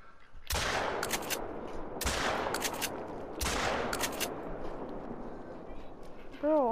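Three shotgun blasts ring out during a duck hunt with a Labrador retriever, each a sharp loud report followed by quick rattling echoes, spaced about a second and a half apart, with a voice speaking afterward.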